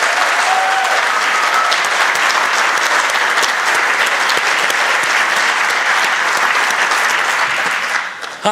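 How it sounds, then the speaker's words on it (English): A large gathering at a celebration-of-life memorial service gives a long, steady round of applause, thick and loud throughout, thinning out at the very end. "please, one more round of applause for Lee Threadgill"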